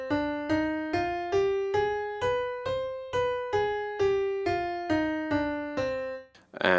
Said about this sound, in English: So the harmonic minor scale, it starts like this